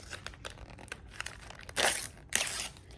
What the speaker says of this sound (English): I guess you gotta rip it open